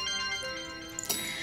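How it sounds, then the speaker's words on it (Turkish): A mobile phone ringtone plays steadily and clearly from start to finish in an indoor scene of a Turkish TV drama, with a brief clatter near the end. "Telefonu çalıyor."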